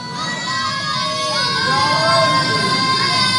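Children chanting religious slogans together at a gathering, a loud, steady crowd of young voices with tonal, sustained shouting throughout.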